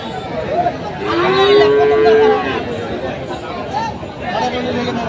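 At Kaharol cattle market, a cow lets out one drawn-out moo amid the chatter and hubbub of a crowd, with someone talking nearby.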